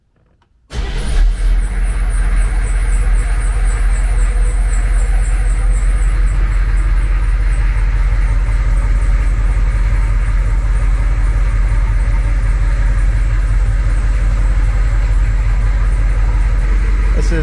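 A Humvee diesel engine cranks over and catches after the glow plug cycle, then settles into a steady, loud, close idle with a continuous low rumble and no talking.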